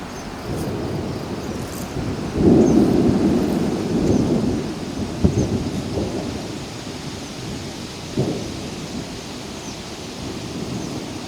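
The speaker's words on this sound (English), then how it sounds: "Do you hear that thunder?" Low rolling thunder rumbles through steady rain, swelling after a couple of seconds and then fading into a continuous wet hiss with a few soft knocks.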